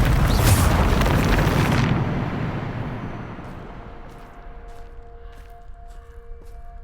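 A Bombarda spell explosion in the Hogwarts Legacy video game, heard as a loud, close blast that rumbles for about two seconds, then a long fading tail with faint ringing and debris settling.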